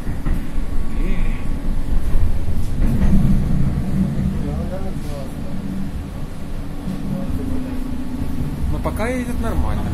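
Steady low rumble and rattling of a Pesa Twist (71-414) tram rolling on rails at night, with occasional squeaks, continuous throughout under nearby people talking.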